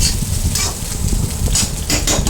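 Chowmein stir-fried in a pan, with a steady sizzle and a busy scrape and clatter of a utensil against metal throughout, loud and close with no talk.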